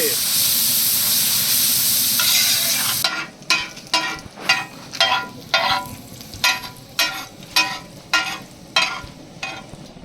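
Onions fry in a pan for dragon vegetable fried rice. A loud, steady sizzle is followed by rhythmic stirring, with regular scraping strokes roughly twice a second over a quieter hiss.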